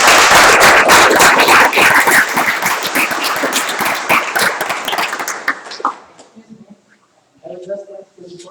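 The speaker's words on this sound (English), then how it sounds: "So can we have a round of applause for" A workshop audience at an academic haptics conference breaks into loud, close applause with sharp individual claps. It thins out around six seconds, and a voice follows.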